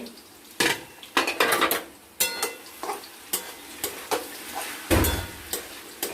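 A cooking pot lid lifted during preparation of a Bengali fish-head curry with potato and cabbage, heard as a series of sharp metallic clinks and knocks over a soft simmering background, with no talking.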